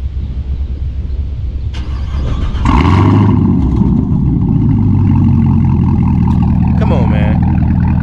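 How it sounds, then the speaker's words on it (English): An idling Chevrolet Camaro ZL1 with a catback exhaust suddenly roars to life at high revs and holds a loud, rumbling exhaust note close by, with a voice briefly over it. "let's hear what she sounds like"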